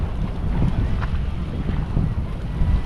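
Strong waves along a littered shoreline, a steady low rumble of surf mixed with gusting wind buffeting the microphone, continuous and fairly loud with no talk.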